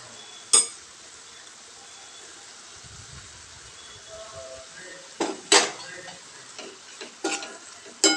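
A spring onion dish seasoned with half a spoon of turmeric and a spoon of chili is stirred in a pan. A faint hiss runs underneath, with sharp spoon clanks against the pan near the start and in a cluster toward the end.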